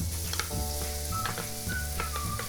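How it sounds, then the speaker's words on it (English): Chopped onions sizzle in hot oil on a stove, a continuous crackling fry with occasional scraping stirs over a steady low hum, close and moderately loud. "We're adding onions."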